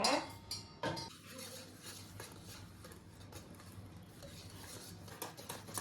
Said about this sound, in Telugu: ఉంటలు కట్టకుండా బాగా మిక్స్ చేసుకోవాలి